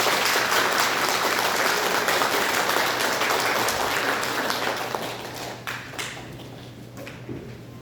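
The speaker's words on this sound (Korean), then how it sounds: "우리 김보라 선생님과 영양급식팀 1년 동안 수고하잖아요. 박수 부탁할게요." An audience at a 2024 New Year's opening address at a Korean community welfare center applauds the nutrition and catering team with steady, dense clapping that gradually thins and fades toward the end, with a low steady hum underneath.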